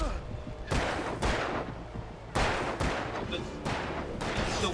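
Gunshots in the Alan Wake video game crack out loud and close, roughly half a dozen sharp single blasts at irregular intervals, each trailing a brief echo.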